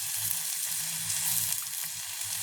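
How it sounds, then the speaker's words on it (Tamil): Green chilies and onions sauté in a pan with a loud, continuous sizzle and a faint low rumble beneath, close up and without voices. "நல்லா வதக்கி விடுவோம் உங்களுக்கு பச்சை மிளகா வெங்காயம்லாம் நல்லா வதங்கிட்டுது"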